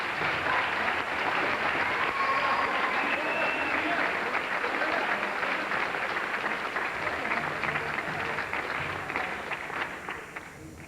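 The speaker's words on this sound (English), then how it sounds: "I would think that we should give him a round of applause." An audience at a high school jazz ensemble concert claps in sustained applause that fills the room, then tapers off toward the end.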